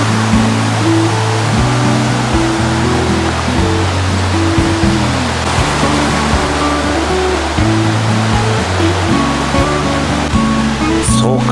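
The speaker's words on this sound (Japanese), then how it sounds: "これが乙女の滝って名付けられたかわからんが、工業用水を満たすためにね、人工的に作られた滝なんだって" An artificial waterfall built to supply industrial water rushes steadily and loudly from start to finish. Low, shifting tones sit beneath the roar.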